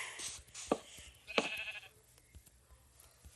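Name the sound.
sheep bleating in a video game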